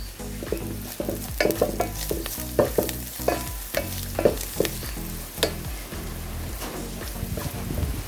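Soya fried rice made with ration rice being stirred in a pan, busy rhythmic clatter of spatula strokes over a continuous sizzle, close and fairly loud for the whole stretch, no voices.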